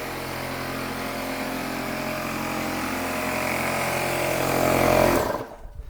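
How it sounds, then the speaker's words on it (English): A workshop air compressor runs with a loud, steady mechanical drone, then shuts off abruptly near the end, its noise cutting away to near silence. "I'm going to shut off the air compressor."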